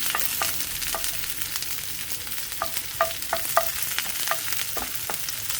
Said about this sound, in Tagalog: Maglalagay ako sa fry pan ng oil guys. Ito na guys. Sesame oil.